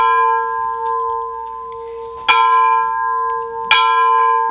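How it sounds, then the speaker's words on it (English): A bell at a train shop rings with a sustained, resonant tone, struck twice in succession so each strike adds a bright clang over the lingering hum; no voices. "We're going to ring the bell."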